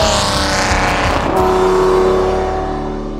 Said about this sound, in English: I definitely have a lot of fun drifting these cars around this special track